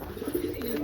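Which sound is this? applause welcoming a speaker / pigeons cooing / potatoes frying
pigeons cooing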